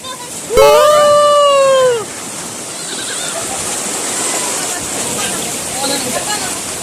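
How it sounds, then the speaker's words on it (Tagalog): Water surging and sloshing at a deep natural pool in Pangasinan, a continuous rushing wash that swells and recedes, opening under a sharp, loud rising-and-falling whistle-like cry. "Ayan na, ayan na, alon mga kapayo."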